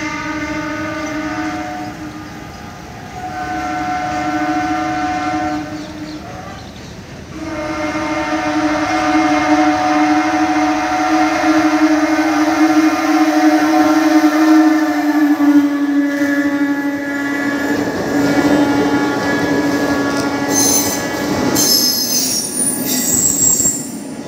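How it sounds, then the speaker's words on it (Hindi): The Ahmedabad to Ekta Nagar heritage special train passing close by, with loud sustained metallic wheel squeal and rumbling carriages over about twenty seconds, and sharper screeching tones toward the end. "हेरिटेज ट्रेन अहमदाबाद से लेकर एकता नगर जाने वाली हेरिटेज ट्रेन अभी आपके सामने।"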